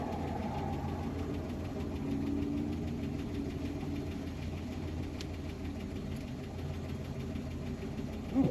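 A 1962 Oldsmobile 98 engine labouring in second gear: a steady, low, rough drone with knocking vibration, running continuously and close, with a brief louder bump at the very end.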